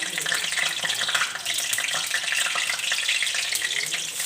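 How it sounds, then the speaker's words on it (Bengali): Onions and chilies fry in a pan after bay leaves and whole garam masala, giving a continuous dense sizzle with faint stirring scrapes, close and moderately loud, with no speech. "পেঁয়াজ আর মরিচ দিয়ে দিলাম। আর এটাকে গোল্ডেন করে ফ্রাই করে নেব।"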